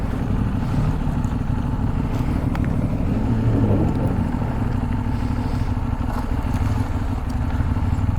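A loaded motorbike grinds over loose gravel in Shaban Valley, Balochistan, its engine a steady low drone mixed with rattling and crunching beneath the wheels.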